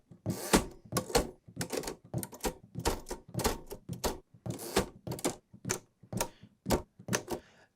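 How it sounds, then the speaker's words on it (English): Typewriter mechanics sampled as Foley for a horror instrument, giving a long irregular train of sharp clacks and rattling strikes, close and dry, with no voices. "And then we have the typewriter mechanics."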